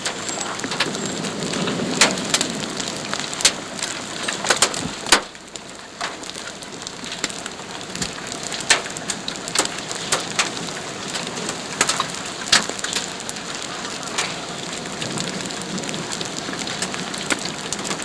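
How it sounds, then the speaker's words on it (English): Hail pelts a car during a storm near Chapman, Nebraska, a dense rattling patter of sharp impacts on the roof and glass, with louder individual strikes scattered throughout. "Look at the hail."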